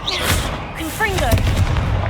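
Confringo fire spell in Hogwarts Legacy, heavy thumping blasts mixed with a voice, low booms recurring over two seconds amid swooping game effects.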